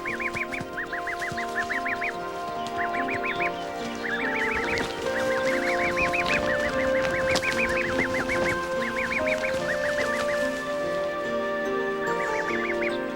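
Geese and three-day-old goslings on steep cliffs call continuously, with repeated high, short honking and peeping bursts in quick clusters over a low steady background, moderately loud and close.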